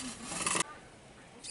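A tool rasps and scrapes against old caulk on an RV shower door, a short burst of harsh rubbing that stops abruptly, then starts again faintly at the end.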